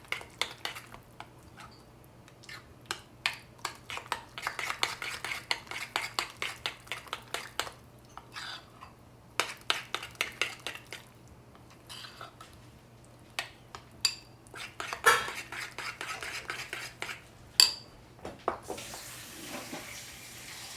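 A spoon stirs olive oil into yogurt with cucumber in a bowl, making a long run of soft wet clicks and scrapes close up, steady and rhythmic, with brief pauses and no talk.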